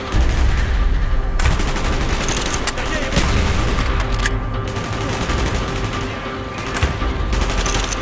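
Dense gunfire from the video game Call of Duty: Black Ops, with rapid automatic bursts and heavy booming shots layered over battle noise, loud and continuous, with voices shouting amid the firing.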